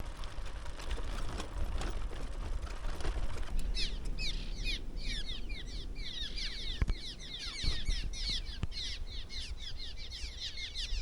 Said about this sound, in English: sparrows. There's so many of them, it almost looks like flies.